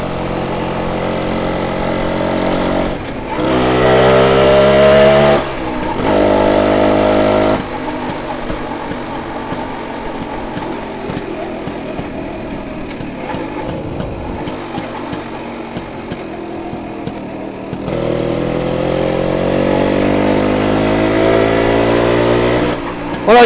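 A 1967 BSA Bantam 175 D10 motorcycle engine runs close by, a loud buzzing single-cylinder note that revs up in rising sweeps, drops to a rough idle, and then climbs again.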